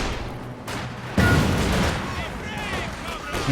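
Video game battle gunfire from flamethrowers and infantry guns, a burst of booming shots and crackling fire rising suddenly midway and rumbling on beneath a voice speaking over it.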